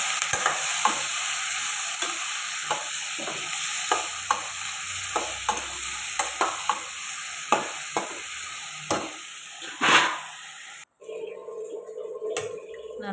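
Onions and tomatoes sizzle and fry in a pan while a utensil stirs and scrapes in repeated strokes, ending with a brief clatter and a softer sizzle.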